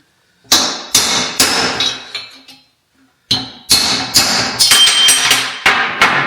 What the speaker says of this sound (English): I'm just using a small drift, and I'm driving this inner pinion race